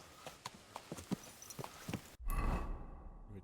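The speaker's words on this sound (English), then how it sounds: "Easy, good horse." Horse walking in the video game Kingdom Come: Deliverance 2, with a slow, steady clip-clop of hooves, fairly close and quiet, followed by a brief louder rush of movement and breath near the end.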